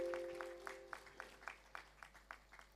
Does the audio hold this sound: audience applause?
yes